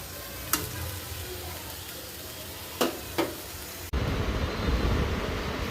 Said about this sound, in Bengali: এখন কষাই নিব, তারপরে পানি দিয়ে দেবো